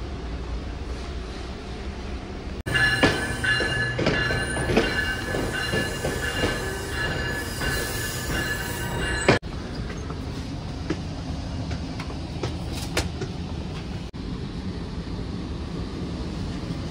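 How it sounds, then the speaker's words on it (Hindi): A Toronto subway train runs through a tunnel with a steady rumble, loud squealing wheels and metallic clatter, then rolls on more quietly with rattles and brief high squeaks. "ये ट्रेन जो है इसको सबवे कहा जाता है और टोरंटो में ये 4 लाइन्स ऑपरेट हो रही हैं।"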